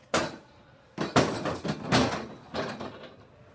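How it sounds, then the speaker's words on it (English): A table slid back and stored under another table in a gym during intramural basketball supervising, heard as several scraping, thudding knocks in a loose sequence, fairly close, with no talk. "slide the table back under the other table."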